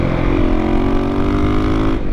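A KTM 525 EXC motorcycle engine revs hard and close, holding a loud, steady high-rpm drone with a buzzy harmonic whine for about two seconds before easing off at the end.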